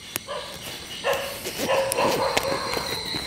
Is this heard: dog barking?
yes